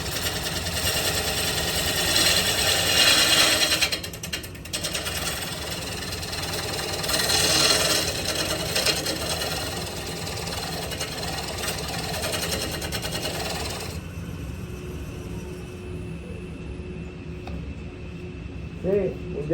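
Wood lathe spinning a glued-up wood block while a gouge cuts it, a loud continuous rumbling scrape that eases off near the end, with someone talking over it.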